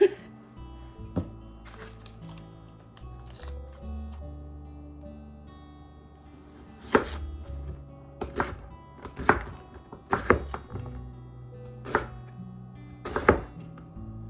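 A knife chops carrots into small pieces on a cutting board, striking in sharp, irregular cuts with pauses between them, close and clear while someone speaks faintly in the background.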